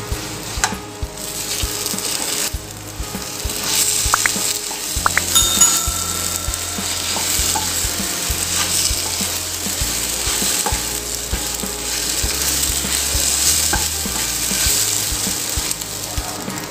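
Fried egg pieces being stirred in a pan for an egg gravy, loud continuous sizzling with repeated scraping and clinking of the spoon against the pan, close and without talk.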